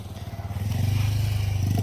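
A motorcycle engine idling and revving near a village fair in Channarayapattana, a close, steady pulsing putter that rises in level partway through.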